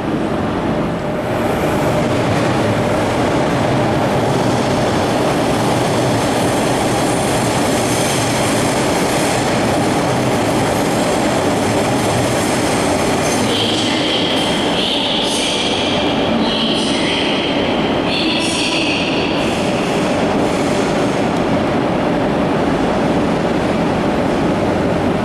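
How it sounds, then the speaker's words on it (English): Trains rumble and clatter through a hot underground railway station in Spain, a loud continuous roar of wheels on rails with brief high squeals midway, no voices. "I'm very impressed the amount of trains in and out here"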